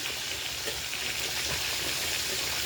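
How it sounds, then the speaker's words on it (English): A cup of grits is slowly whisked into boiling water on low heat, giving a steady broadband rushing, bubbling hiss throughout with faint stirring scrapes and no talk. "I got a cup of grits. And I'm going to slowly whisk these in."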